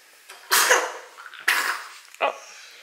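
A sick baby girl sneezes close up, two sharp bursts followed by a smaller third, each breathy and sudden.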